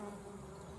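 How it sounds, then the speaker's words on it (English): Bees buzz faintly around a bee house with nest holes partly sealed with mud, a soft continuous hum heard briefly at a distance. "the bees decided to take up residence"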